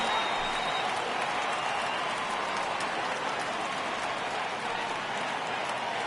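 A stadium crowd in MLB 18 The Show, San Francisco at the LA Angels, cheers and claps for a 3-2 count, a steady, dense roar of noise with no break.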